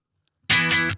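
A noisy, distorted guitar amp sound before any noise gate is applied: after a silent start, a short loud burst of harsh, fuzzy distortion hiss lasts about half a second and then cuts off abruptly.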